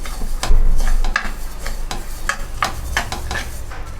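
Spices and fenugreek seeds are dry-roasted in a pan for pickle, heard as a loud close rattle and scrape of stirring with rhythmic strokes and light sizzling.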